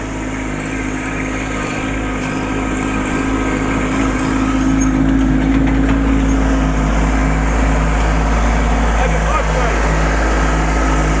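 A compact tractor engine runs at a steady, even drone for the whole stretch, a constant low hum with no revving or breaks, fairly loud and close.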